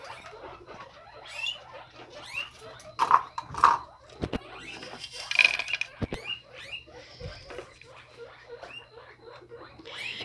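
A guinea pig eats its feed, making quick, close chewing and crunching sounds in irregular bursts, with occasional louder knocks and rustles.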